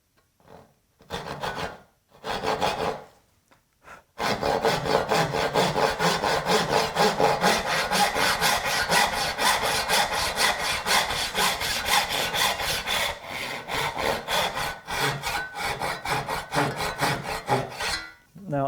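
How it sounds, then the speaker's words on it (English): A hand saw cutting wood for dovetail drawers: a few short trial strokes, then a long steady run of close, rhythmic rasping strokes that ends in a brief pause. "I'm certainly no expert at hand sawing, but my biggest tip is just don't force the saw."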